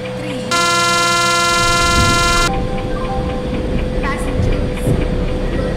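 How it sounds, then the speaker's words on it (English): An Indian express train hauled by a WDG 3A diesel locomotive arrives at a station platform, giving a long, loud horn blast followed by rumbling and clanking of the wheels and carriages, with station noise around it. "Express is arriving at platform number 3."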